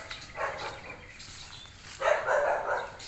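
Dogs bark near a rented apartment in Cambodia, two short bursts of barking from a moderate distance over a quiet background.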